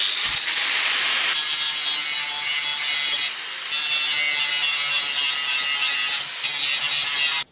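A drill bores through material while a car interior from a Xantia is fitted into a Citroën Traction 11B, giving a steady, loud, high grinding whir that runs almost continuously with a couple of brief dips and no talk.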